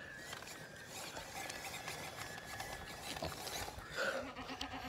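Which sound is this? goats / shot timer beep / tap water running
goats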